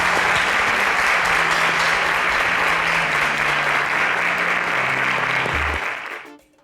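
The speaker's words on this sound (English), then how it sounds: "A round of applause for our contestants." Enthusiastic applause from an audience for contestants at a televised competition show, dense continuous clapping that holds steady for about six seconds, then fades out quickly.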